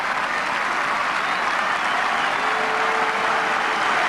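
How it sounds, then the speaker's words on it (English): Loud, sustained applause from a rugby league crowd at a 1989 Bradford Northern versus Featherstone match, a continuous broad roar of clapping across the stadium that stays even throughout with no clear talk. "he will certainly get a sympathetic round of applause."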